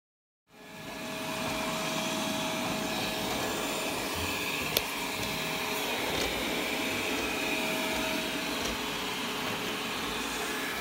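A Viomi V2 Pro robot vacuum cleaner runs steadily at close range, its motor and brush whir holding a constant broadband hum with a faint tonal whine, plus one sharp click partway through.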